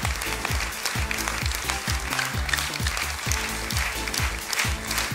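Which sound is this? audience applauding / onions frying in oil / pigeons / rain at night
audience applauding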